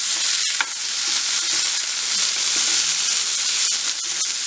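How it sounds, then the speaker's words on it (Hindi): Tomatoes hit onions fried to light brown in a pan, giving a steady loud sizzle with the scrape and clatter of stirring throughout, no voices. "प्याज हमारे लाइट ब्राउन हो गए हैं, इसमें अब हम डालेंगे टमाटर।"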